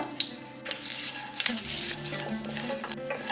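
Black cumin, whole fennel seeds and a bay leaf frying in hot oil, a close steady sizzle with a few sharp crackles and pops over a soft continuous hiss.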